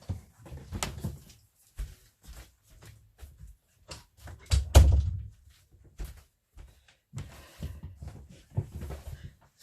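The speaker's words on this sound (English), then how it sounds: "excuse me one moment while I shut the door." A door is shut indoors in a home craft room: one solid thud with a sharp latch click stands out amid quiet handling noises and soft knocks.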